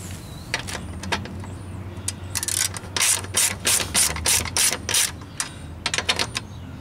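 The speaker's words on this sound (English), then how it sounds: "Oh, get my ratchet." A ratchet wrench turned by hand while fitting a Ford Ranger bucket seat into a Jeep Wrangler YJ, with bursts of rapid close clicking that come in short runs and then longer repeated strokes, alone without talk.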